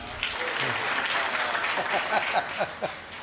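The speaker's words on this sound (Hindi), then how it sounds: "तो एक बार ताली बजा दीजिए।" An audience at a comedy performance claps together in a dense burst of applause, with a few light chuckles and murmurs mixed in.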